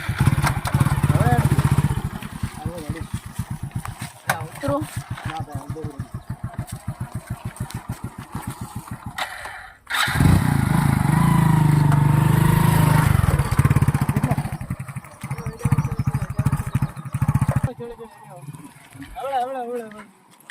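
A motorcycle engine runs close by, idling with a steady rough putter, then revving louder mid-way before settling, with people talking over it throughout.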